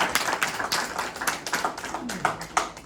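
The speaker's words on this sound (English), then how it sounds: "join me in a rousing round of applause to welcome Jack Stetson" An audience applauds to welcome a speaker at an indoor event, a fairly faint patter of scattered claps lasting a few seconds with no talk over it.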